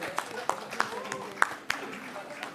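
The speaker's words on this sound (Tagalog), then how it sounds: "Kung pwede pumalakpak po tayo" Scattered claps ring out in the Philippine Senate chamber, a handful of sharp, separate hand claps spread across a couple of seconds, fairly faint beneath murmuring voices and talk in the room.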